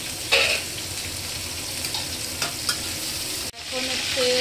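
Green banana, drumstick and carrot pieces fry in a pan for a Bengali sukto, giving a steady soft sizzle with a few stirring scrapes and a brief clatter near the end.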